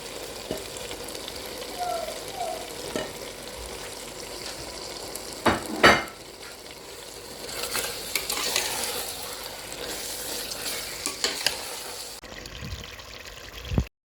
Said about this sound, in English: I have to put in my gizzard. I fry it now for 5 to 6 minutes.